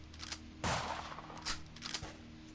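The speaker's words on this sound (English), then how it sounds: "you hear gunfire. Not kind of in your direction, just almost like somebody's like shooting weapons into the air." Gunfire being shot into the air in a dark cyberpunk city: a few sharp, scattered bursts that crack out at irregular moments over a low steady background hum, with no talking.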